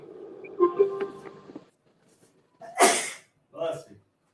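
A single sharp sneeze bursts out close by after a stretch of talk, followed by a shorter breathy sound.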